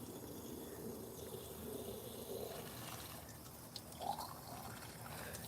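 Water from a garden hose running into bottles, a faint steady rushing trickle with slight gurgling, heard at low level without talk.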